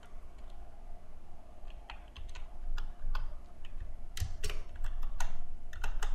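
HTML tags being typed on a computer keyboard: scattered clicking keystrokes that grow quicker and denser toward the end, close and fairly clear over a low background hum.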